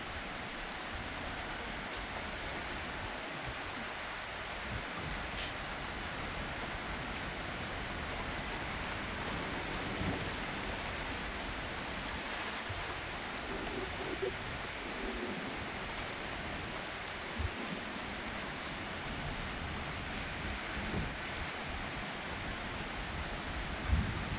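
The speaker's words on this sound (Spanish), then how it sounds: "Está lloviendo a mares." Heavy storm rain pours down steadily in Paterna, a dense unbroken hiss of water across surfaces with only a few faint knocks and splashes, and no voices.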